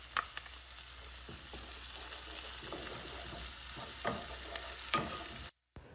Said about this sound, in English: heat it up, and then we're going to add our chopped onion into that mixture until the onion gets translucent